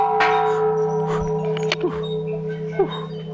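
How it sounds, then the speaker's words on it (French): Church bells ring in Thailand, steady sustained tones holding across the whole stretch with repeated strikes layered over a constant drone, fairly loud and close, with a few brief voices and knocks in the background. "Refais sonner les cloches dans l'autre sens maintenant"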